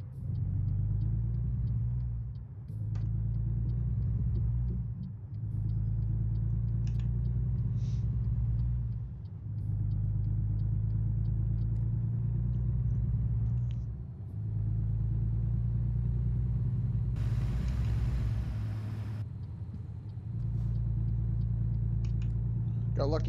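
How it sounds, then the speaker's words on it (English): A truck's engine in the American Truck Simulator video game, a low steady rumble that idles and revs in repeating cycles for over twenty seconds, with a voice talking over it. "so let's go ahead and start the truck back up."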